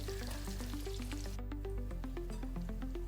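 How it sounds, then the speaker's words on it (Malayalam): Marinated soybean chunks fry in hot oil with a steady, close sizzle, while tuneful background music plays over the crackle throughout. "ഇനി മാരിനേറ്റ് ചെയ്ത് വെച്ചിട്ടുള്ള സോയാബീൻ ചേർത്ത് കൊടുക്കാം."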